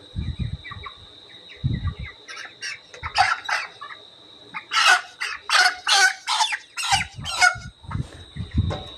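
Broiler chickens on a poultry farm cluck and squawk loudly and close by in a series of sharp bursts, with a constant high electrical whine behind them.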